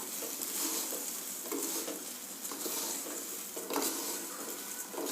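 Roasted poha chivda being tossed with roasted peanuts and chopped coriander in a pan, a soft continuous rustle with rhythmic stirring scrapes, close and fairly quiet.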